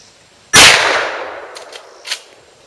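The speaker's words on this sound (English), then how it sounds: "I shoot at the bottom." A single loud gunshot from a .38 Special revolver fired at the bottom of a metal safe, a sharp close crack with a long ringing decay and a faint metallic echo afterward.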